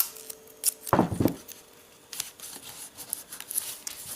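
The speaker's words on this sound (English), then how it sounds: "I'm going to put two pieces of tape on this one." Pieces of tape are pulled and torn off for a cardboard craft treasure chest, one loud close rip followed by smaller crinkles and handling noises, with no talking.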